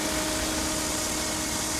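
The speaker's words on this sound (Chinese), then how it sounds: "用这种专业汽修听诊器来听声音，听这种发动机的异响" A car engine running, heard through a mechanic's stethoscope pressed to the engine while hunting for an abnormal noise, a steady dense hum with a faint tonal whine throughout, no talking.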